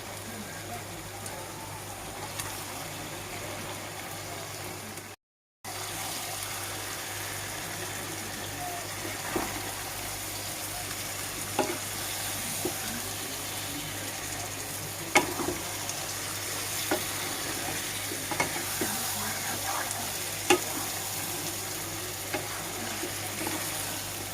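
Eggplant pieces fry in a pan for Kashmiri chicken masala with a steady soft sizzle, broken by occasional scraping clicks of stirring and a brief dropout.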